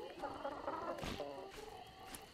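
Chicken clucking in the video game ARK Survival Ascended, a short run of soft fowl calls at middle distance over a low game background.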